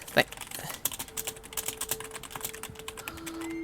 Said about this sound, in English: I'm typing down the message